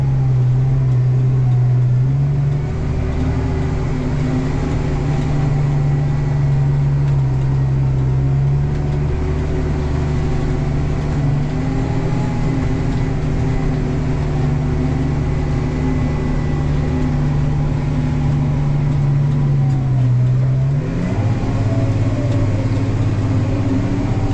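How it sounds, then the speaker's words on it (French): Loud, continuous tractor engine drone inside the cab while preparing a rapeseed seedbed on compacted ground along a tree line, the pitch holding steady under load, then dipping and climbing as the engine strains near the end, with no talk. "Là, le tracteur s'énerve."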